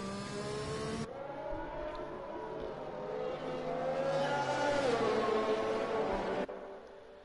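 Race cars on the Spa circuit in a sim-racing round restarting a lap on fresh tyres, with a loud sustained engine drone rising and falling in pitch as cars accelerate, no talk.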